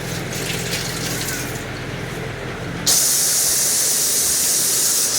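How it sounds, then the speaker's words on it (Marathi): A kitchen pressure cooker vents steam. A softer hiss suddenly jumps to a loud, sustained rushing blast that continues steadily nearby. "आपल्या कुकरच्या पण दोन शिट्ट्या झाल्या"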